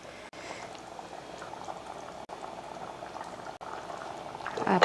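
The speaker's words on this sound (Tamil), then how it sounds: "நல்லா கொதிக்க ஆரம்பிச்சிருச்சு பார்த்திங்களா." Steady bubbling of egg biryani liquid boiling in a cooking pot, close and continuous, with a brief louder splash or stir near the end.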